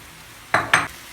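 A spoon stirs spices, a dessert spoon of pepper paste and tomato paste with a little oil in a pan, giving two quick close scraping, sizzling strokes against a quiet background.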